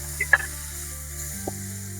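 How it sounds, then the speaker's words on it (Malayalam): Tomato sautéing with spices in a pan for a soybean dish, a soft, low sizzle over a steady hum, broken by a couple of small utensil clicks. "ഇനി ഇതിലേക്ക് ഒരു തക്കാളി ചേർത്തിട്ട് ഒന്ന് വഴറ്റിയെടുക്കാം"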